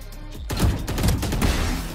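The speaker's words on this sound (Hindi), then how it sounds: "इधर है गोली चला देख ले" Rapid gunfire in a 1v1 shooting video game battle, a dense continuous fusillade of loud overlapping shots that starts abruptly and keeps going for the whole stretch, with no voices.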